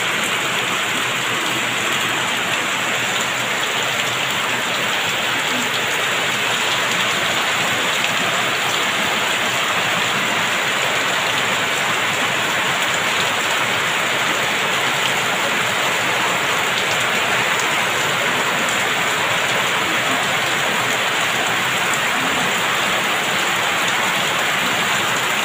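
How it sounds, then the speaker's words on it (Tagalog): Heavy rain pouring down steadily, a dense, unbroken hiss of drops on surfaces for the whole stretch, loud and close. "grabe, kalakas ng ulan."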